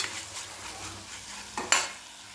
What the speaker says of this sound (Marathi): टोमॅटोचा कच्चेपणा जाईपर्यंत हे परतून घ्यायचं आहे।